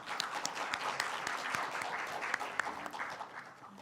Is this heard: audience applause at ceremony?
yes